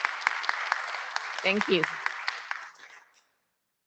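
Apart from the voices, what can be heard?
round of applause for the chairs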